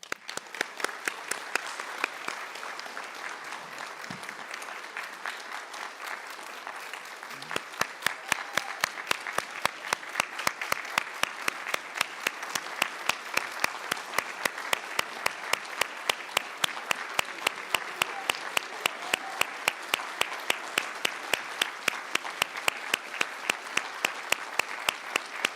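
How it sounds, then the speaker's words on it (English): Audience applause for honored educators at a school board meeting, dense and sustained throughout, swelling noticeably louder partway in and staying full and steady to the end. "hope some of your own children are standing and applauding for you"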